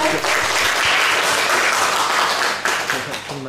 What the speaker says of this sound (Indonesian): Kita beri aplaus dulu kepada pemateri kita